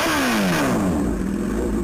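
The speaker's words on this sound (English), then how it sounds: "So if you're driving and hear a motorbike" A short burst of a motorbike engine revving, the pitch sliding down as it passes, loud and close.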